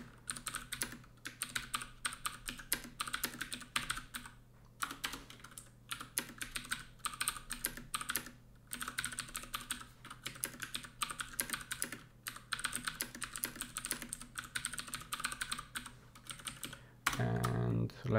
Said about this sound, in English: I'm sorry, I'm really bad at typing.